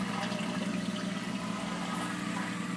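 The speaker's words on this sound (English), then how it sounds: "The pump's sucking air." A pump sucks air while water overflows through a swamped weir in a Durso standpipe setup with 1" thin wall tubing, a steady loud churning gurgle and rushing water hum that never lets up, with no voices.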